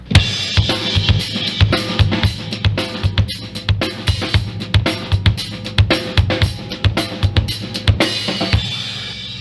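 A drum kit lays down a busy groove with snare ghost notes, rim shots and hi-hat, the sharp hits and quieter in-between strokes repeating close and loud with no voices.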